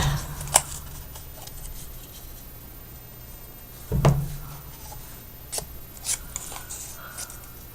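Scissors cut through cardboard to make a card box, giving a few sharp, close snips and crunches, spaced apart over a quiet room with no talk.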